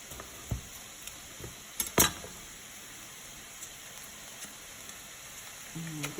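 Half a stick of butter melts in a pan for a lasagna béchamel, giving a faint steady sizzle broken by a few sharp clinks and taps, with a brief voice near the end.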